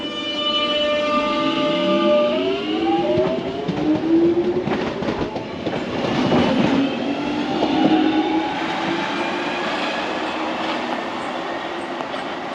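An underground train pulls into Canons Park station with a loud rush and rumble, its rising whine dropping in pitch as it slows, then steady mechanical hum and faint squeals.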